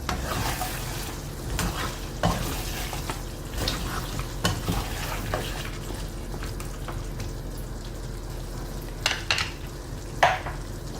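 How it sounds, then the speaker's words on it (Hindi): Potatoes frying in a pan while fenugreek leaves are stirred in, with a steady sizzle under scraping and stirring sounds and a few louder clinks of the utensil against the pan near the end. "पहले मैंने आलू डाल दिए थे और अब मैं जो है वो उनको मिक्स करके तो मेथी डालने लगी हूँ"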